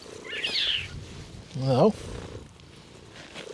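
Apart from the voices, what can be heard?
station cat purring and meowing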